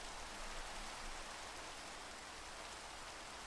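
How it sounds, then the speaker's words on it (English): Steady, even rain from the video game Minecraft, a dense soft hiss of falling drops that holds at a constant level throughout, with no talk over it. "I always found the rain sound in Minecraft to be very relaxing"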